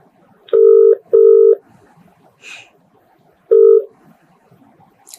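Touch-tone keypad beeps as a phone call is placed during a Marathi TV interview show: three loud, clean dual-tone presses, the first two in quick succession and a third after a pause, over faint background hiss.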